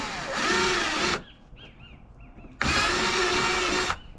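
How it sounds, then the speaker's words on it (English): A power drill with a 3/8 drill bit bores holes for an anchor trolley install, two loud sustained whirring bursts of about a second each, close by, separated by a quieter pause with faint small sounds. "then you just drill"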